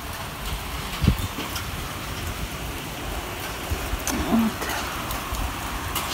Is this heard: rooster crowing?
no